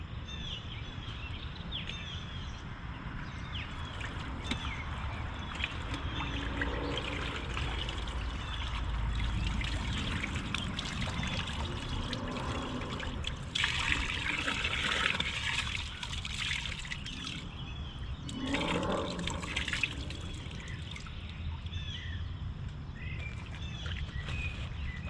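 Water drips and trickles steadily from rinsed fur hides hung up to dry in a fur shed, a continuous soft patter with a few louder splashing spells.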